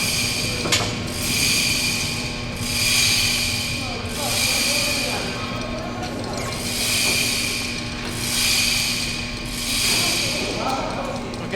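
A Spey engine lift lowers an engine onto spacers and pins with a repeated rhythmic ratcheting, about six evenly spaced cranking bursts rising and falling over a steady mechanical hum, up close.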